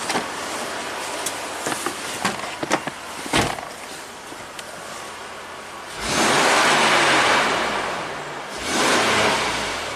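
Throttle snaps on a 3rd gen Toyota 4Runner engine with a long crank when hot, a few clicks and knocks first, then two loud revving surges rising and falling close by, no talking.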